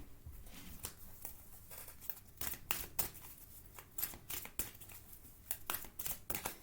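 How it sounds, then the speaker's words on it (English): Close, quiet shuffling of an oracle card deck, a quick series of soft papery riffles and flicks as cards are mixed and one is drawn, with no talk. "And then I'm going to pull another card."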